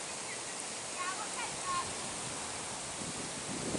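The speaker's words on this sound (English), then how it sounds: "Can you hear that wind?" Wind blows steadily outdoors at night near a hotel, a continuous broad rushing hiss that stays fairly even with slight gusts throughout.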